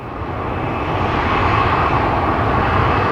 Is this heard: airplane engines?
yes